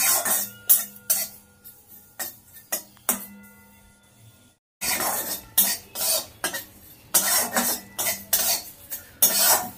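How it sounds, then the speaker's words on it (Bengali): A spice masala dry-roasts in a dry pan, stirred with a utensil in repeated quick scraping and rattling bursts, close and loud, with a short quiet pause partway and no speech. "একটু সময় ধরে মশলাটাকে ভেজে নিতে হবে, যতক্ষণ সুন্দর একটা গন্ধ না বেরোচ্ছে।"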